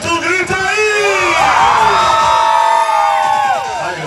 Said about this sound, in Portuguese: Quem quer cambalhota, solta o grito aí!